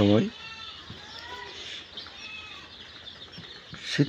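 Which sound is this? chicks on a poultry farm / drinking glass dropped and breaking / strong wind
chicks on a poultry farm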